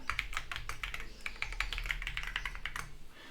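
Rapid close keystrokes on a computer keyboard as a password is typed, a quick even run of light clicks over a faint low hum.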